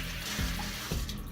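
Kitchen tap running water onto a tablespoon to wet it, a steady close splashing flow with a couple of brief louder splashes, no talk.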